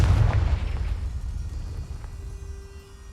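A Confringo fire spell explodes in Hogwarts Legacy, a single loud, deep booming burst that fades into a rumbling, crackling decay over about three seconds.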